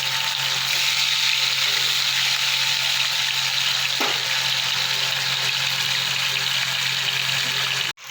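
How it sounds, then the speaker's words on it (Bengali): Bhola fish sizzle steadily in hot oil in a pan for a Bangladeshi-style jhal curry, a dense continuous frying hiss with no talk, cutting off abruptly at the very end. "মাছগুলো আমার ভাজা হয়ে গেছে,"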